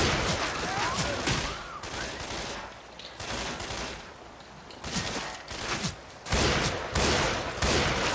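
Gunfire in the Left 4 Dead 2 zombie shooter game comes in rapid bursts of automatic shots, with short gaps between them and heavier blasts near the end, loud and close.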